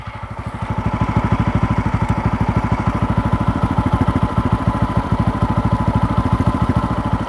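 TVS Apache RTR motorcycle engine idling steadily with its battery disconnected, a close, even, rapid putter with constant loudness and no talk.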